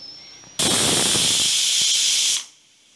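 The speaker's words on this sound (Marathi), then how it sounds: "एक मीडियम लेवलवर एक शिट्टी काढून घ्यायची" A pressure cooker cooking masoor lentils lets out one loud, steady steam whistle, a close, sharp hiss that lasts almost two seconds and then fades away.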